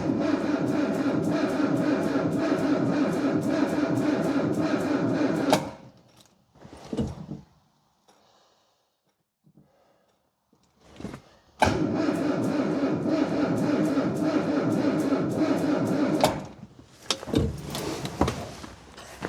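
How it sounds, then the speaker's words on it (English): A vintage Wolseley 16/60 engine is cranked over by the starter in two long rhythmic churning bursts of about five seconds each, with quiet gaps and clunks between them. It does not fire and catch. "I'm just going to turn over a couple of times and then reconnect that and see if I can get it started."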